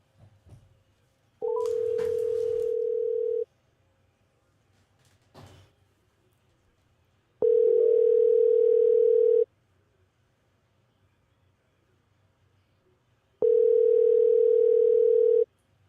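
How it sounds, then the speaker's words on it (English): An outgoing telephone call plays through a computer sound system, with three long steady ringback tones separated by silent gaps and a few clicks and knocks early on. "You want me to call Jackpot and put it through the sound system, through the computer, so y'all can hear it?"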